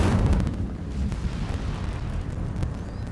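A fire spell cast in the wizarding video game Hogwarts Legacy erupts in a deep, rumbling burst that roars loudly at the start and then settles into a sustained crackling, low-heavy rush.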